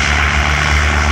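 Airplanes taking off at an airport, a loud steady engine roar with a deep low drone that holds constant throughout, no voices over it.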